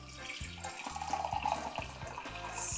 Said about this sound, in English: I'll pour the hot water.